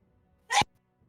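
A single sharp sneeze, brief and fairly close, standing out against near silence.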